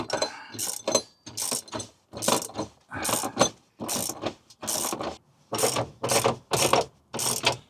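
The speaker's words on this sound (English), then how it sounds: "There we go, I can wrench this up." Ratchet wrench tightening a bolt inside a Transit Custom van during a camper conversion, a steady series of loud, close clicking strokes in regular bursts with short pauses between them, no voices.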